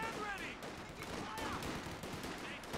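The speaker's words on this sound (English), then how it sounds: "Alright, Grenadiers opening fire." Grenadiers open fire in Company of Heroes 2, with faint, distant bursts of rifle and machine-gun fire crackling in a steady wash of battle noise.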